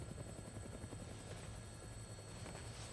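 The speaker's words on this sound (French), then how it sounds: "On dirait que j'ai bien fait de prendre un hélicoptère" A helicopter in flight in the video game Dead Rising Deluxe Remaster gives a steady, faint rotor thrum with rapid low beating, unbroken for the whole stretch.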